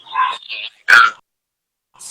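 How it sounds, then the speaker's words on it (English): Dogs bark inside a house during an online interview, letting out a few short, loud yips and barks close by in quick succession, then falling quiet. "You hear my dogs?"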